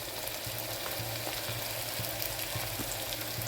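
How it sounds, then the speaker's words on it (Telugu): Onions sizzling steadily in a pan with a pinch of salt added, a continuous close broadband frying hiss with occasional small pops and faint stirring, no voices. "ఆనియన్స్ బ్రౌన్ కలర్ వచ్చే వరకు ఫ్రై చేసుకోవాలండి."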